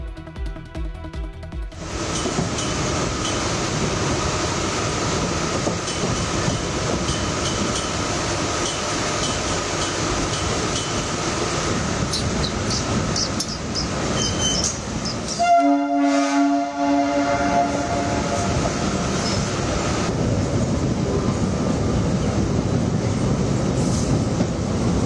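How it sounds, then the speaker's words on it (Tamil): An elevated MRTS commuter train in Chennai rolls past with a loud, continuous rumble and rail clatter. A brief horn-like tone sounds about two-thirds of the way through, and the passage carries no speech. "வேளச்சேரியிலிருந்து பரங்கிமலைக்கு அதிகாலை 5:25 மணிக்கு முதல் ரயில் இயக்கப்பட்டது."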